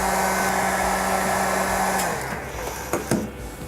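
A heat gun blows steadily to soften glue on a GE stove's electronic control board, a loud continuous airy roar that cuts off partway, followed by a few small clicks and handling knocks.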